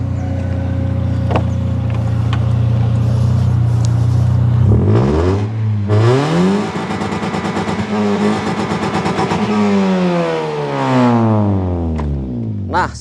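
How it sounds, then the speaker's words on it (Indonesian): 2013 Toyota Vios Limo exhaust revved up from idle in repeated rising and falling sweeps, loud and close, with a deep bassy rumble at low revs. "Kalau saat digeber lumayan keras, tapi kalau pas saat RPM-nya rendah dia sangat-sangat bulat bassnya."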